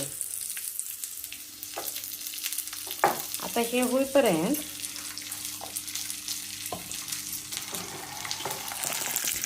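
Mustard seeds, cumin and peanuts fry in a kadhai over a high gas flame. The sizzle is soft and steady, with scattered pops and scraping stirs. A voice speaks briefly over the middle of the frying.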